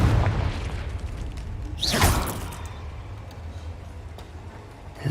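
An explosive Confringo spell bursts in the Hogwarts Legacy cave, one sharp whooshing blast around the middle over a steady low rumble of game ambience, no talking.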